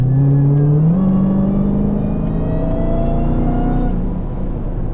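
A Dodge Demon accelerates hard, its engine note climbing in a loud rising whine with an upshift about a second in, then pulling steadily higher before easing slightly at the end.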